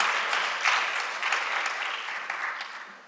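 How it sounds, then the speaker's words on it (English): Audience applause at an 8th grade graduation ceremony for a school of the arts, a steady, moderately loud wash of many hands clapping that slowly tapers off. "Can we please give them another round of applause?"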